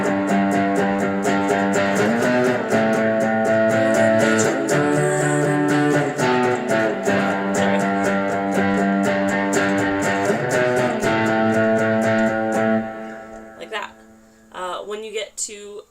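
An electric guitar with effects plays octaves for the chorus of a worship song, ringing out in steady repeated notes before thinning and breaking up near the end.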